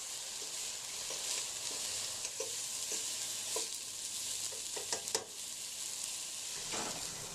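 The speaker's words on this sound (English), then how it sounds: "I'm just gonna put my spinach in there, and we're just gonna start wilting" Spinach wilts in hot olive oil with a steady close sizzle and hiss, punctuated by a few soft stirring taps and pops.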